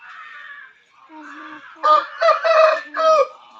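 A caged fighting rooster (pandem kodi) crows close and loud, starting with a lower drawn-out call, then rising into a strong broken crow with several bursts, other fowl faintly calling around it.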